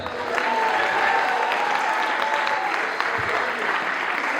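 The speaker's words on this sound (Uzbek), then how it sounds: "Qarsaklar." Sustained applause from an audience at a Women's Day award ceremony in Bukhara, steady and fairly loud throughout, with faint talk underneath.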